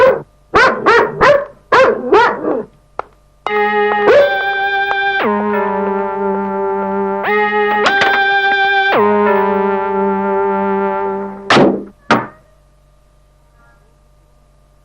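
Dogs bark in a quick burst of sharp yelps, then a long sustained tonal sound with a couple of pitch shifts, and a last bark or two before it falls silent.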